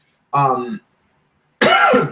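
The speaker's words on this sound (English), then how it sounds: "Sorry, I got a cough." Two separate coughs, close and loud, with a short silent gap between them; no other sound around.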